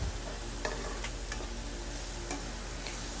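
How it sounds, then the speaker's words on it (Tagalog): Onions sautéed in a pan for squid adobo with oyster sauce, a constant dense sizzle with a few faint ticks and scrapes from stirring, close and steady. "Mikos-mikos lang hanggang sa maghiwalay ang sibuyas"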